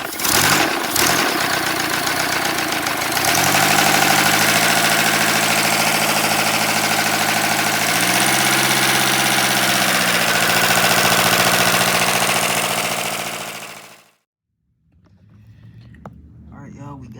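A 3D-printed flat-four engine driving a generator runs with a steady, loud mechanical drone and a rhythmic low throb for about fourteen seconds, then cuts out abruptly, leaving quieter rustling and handling noises.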